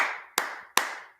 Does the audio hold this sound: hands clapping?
yes